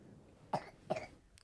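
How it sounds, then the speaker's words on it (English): A small child gives two quick, soft coughs close by, followed by a faint click in an otherwise quiet room. "there's a 2-year-old coughing for you"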